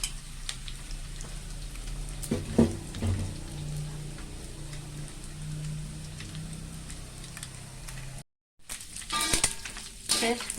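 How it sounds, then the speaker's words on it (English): Dry anchovies fry in hot oil with a constant crackling sizzle and a few stirring clinks, close and moderately loud, broken by a brief silent gap near the end before the frying resumes. "Just fry for a while."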